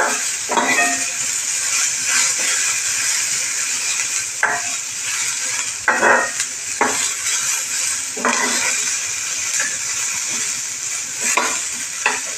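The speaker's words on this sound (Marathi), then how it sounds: "अगदी भाजून होत आला कांदा की. अति पण भाजणार नाही आहे" Onion roasting on a hot tava, a continuous loud sizzle broken by repeated scraping stirs of a spatula against the metal, some with a light clink, no speech.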